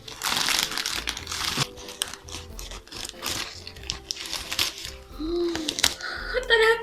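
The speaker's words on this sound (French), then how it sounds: "Après, il va falloir plier le sachet." Plastic snack bag being folded by someone wearing long claw-like nails, producing close, busy crinkling and rustling with small taps, while a voice talks intermittently over it.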